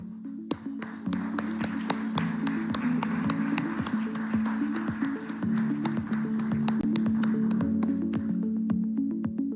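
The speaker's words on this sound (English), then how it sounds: "A round of applause, please." Scattered, uneven claps from an audience at a live public ceremony honoring guests ring out over a steady low droning tone, the clapping thinning toward the end.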